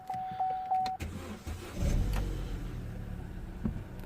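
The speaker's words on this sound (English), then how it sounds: "I'm going to start the car so you can actually see it" A few short clicks and a whirring tone, then the engine of a 2010 Vauxhall/Opel Meriva B cranks and catches, settling into a low idle rumble nearby.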